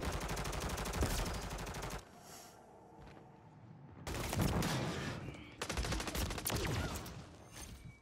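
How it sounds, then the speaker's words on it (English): A ray gun fires repeatedly in Modern Warfare 3 multiplayer: dense, rapid bursts of energy-weapon shots, loud and close, broken by a couple of quieter gaps. "The ray gun."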